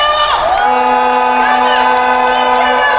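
A large crowd cheers at an outdoor political rally at Cheonggye Plaza, Gwanghwamun, with shouts and whoops over the roar and a sustained tone running beneath it.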